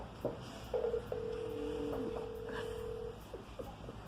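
A phone dials out for a call, with a few short tone beeps followed by a long steady tone that holds for about two seconds, close and clear over low background noise.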